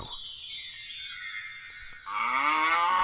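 A cow moo used as a sound effect, one long drawn-out bellow that rises in pitch near the end, heard clearly on its own with no talking.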